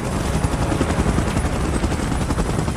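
A helicopter in the PUBG video game, during a Mechagodzilla versus Godzilla and Kong event, roars with a loud, steady, unbroken rotor and engine wash that fills the whole stretch without any voices.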